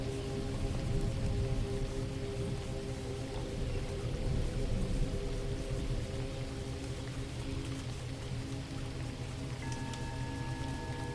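Steady rain falling on a dark, calm lake beside a wooden pier, a soft continuous hiss and patter with low rumble and no voices.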